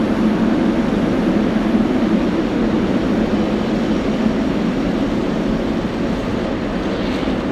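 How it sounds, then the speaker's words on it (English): A Cessna 182 light aircraft gives a steady, droning propeller engine hum that stays level and fairly loud throughout, with no voices. "182, Chicago pilots telling us. Now that is a Cessna."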